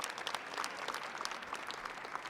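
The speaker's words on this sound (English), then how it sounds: "I think we should all clap for that." An audience claps steadily at a lobby day program, a dense patter of applause held at even loudness throughout with no voices standing out.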